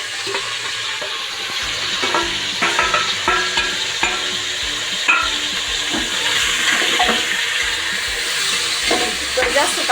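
Village-style chicken in black masala frying and being stirred in a hot pan, a steady sizzle with repeated scraping stir strokes throughout, close and fairly loud.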